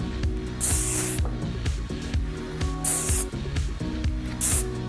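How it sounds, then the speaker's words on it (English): Joico hairspray hisses onto the hair along the hairline in three separate short bursts, spaced apart, over continuous background music. "spray directly onto the hairline"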